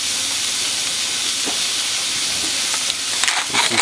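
A pound of ground beef with four cloves of garlic sizzles in a hot pan, a dense steady frying hiss close by, with a few scraping and stirring clatters toward the end.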